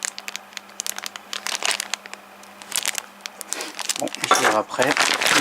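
Packaging crinkles and rustles as a Facom V.347F pneumatic angle grinder is unwrapped, the crackling sounds growing loud and close near the end after someone speaks over quieter handling noise.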